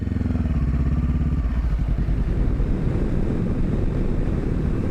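Honda CB500F motorcycle on its first ride of the year, engine revving loudly and steadily throughout under strong buffeting wind noise, with the engine note rising and shifting partway through.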